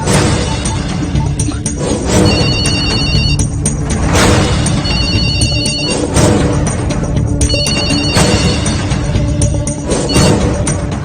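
A telephone rings in a dubbed South Indian horror film scene, a loud repeating electronic ring pattern in bursts over a dense, dramatic soundtrack with crashes and booms.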